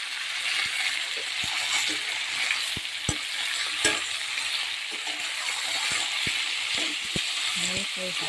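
Raw plantain sautéing in a pan for sambar: steady oily sizzle throughout, broken by frequent sharp clinks and scrapes of a spatula against the pan, close and fairly loud.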